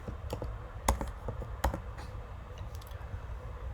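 A quiz question being typed on a computer keyboard: quick, irregular key clicks close by, with a couple of heavier taps standing out, and no talking.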